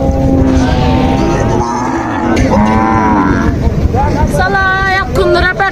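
Cattle at a livestock market, with loud close moos from a cow rising and falling over several seconds amid crowd chatter and background bustle.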